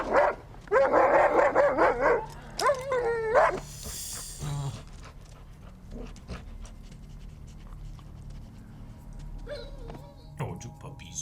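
Two puppies bark, yip and pant in a scene from The Last of Us, with quick bursts of high barking up close followed by quieter whimpers and faint sounds.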